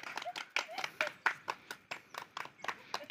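A few people clap hands in short irregular bursts of sharp slaps, fairly close, with faint voices in between.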